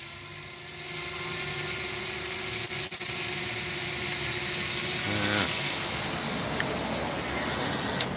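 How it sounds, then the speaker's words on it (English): A hovering drone gives a steady, high-pitched whirring buzz of small propellers that holds close and fairly loud throughout, with a brief dip partway and a slight shift in pitch near the end. "These drones are not stable."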